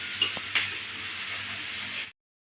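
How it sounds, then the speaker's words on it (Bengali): Onions frying in a pan in a village kitchen, a continuous close crackling sizzle with a couple of light clinks from stirring, cutting off abruptly near the end. "পেঁয়াজ ভেজে নেওয়া হচ্ছে।"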